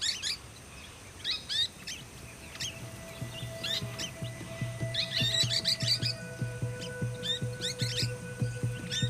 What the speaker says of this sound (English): a haven for the golden-shouldered parrot